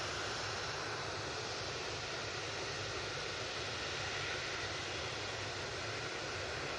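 Boeing 757 in .com livery departing Manchester Airport for Mahon, heard as a soft, distant, even jet rumble with hiss throughout and no talk.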